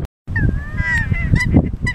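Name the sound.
nene geese (Hawaiian goose) honking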